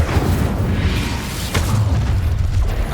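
Incendio fire spell blasts in Hogwarts Legacy make dense, rumbling bursts and booms in a continuous, busy combat mix, with a sharp crack about halfway through.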